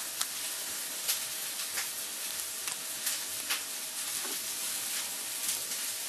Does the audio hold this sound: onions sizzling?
yes